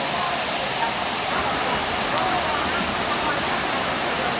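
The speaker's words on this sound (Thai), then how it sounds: "ฝนตกนะคะ แล้วก็เสียงฟ้าร้องด้วย" Steady, dense rain pours as a constant even hiss, loud and unbroken throughout, with no clear thunder rumble standing out.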